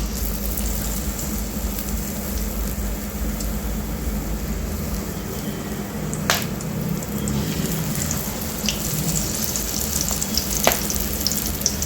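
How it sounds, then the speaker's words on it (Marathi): Spinach pakoras deep-fry in a pan of oil, making a constant, even, fairly loud sizzle with a couple of faint clinks along the way. "आता याचप्रमाणे आपण दुसरी बॅच पण तळून घ्यायची आहे."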